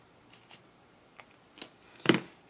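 A few faint snips come in the quiet, then one crisper, louder cut near the end as a piece is trimmed to length for a money clip case.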